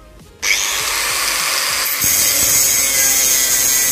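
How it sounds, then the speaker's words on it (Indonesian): An angle grinder disc bites shallowly into the surface of a workpiece, a loud, harsh, continuous grinding whine that starts abruptly and grows a little heavier partway through. "kita hanya memasukkan pisau gerinda di permukaan benda yang akan kita potong ya"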